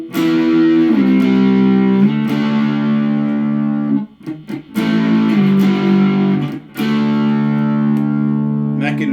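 A Squier Classic Vibe 50's Stratocaster plays through heavy distortion on the neck pickup. Loud sustained chords ring out, with a short choppy break in the middle before the chords return.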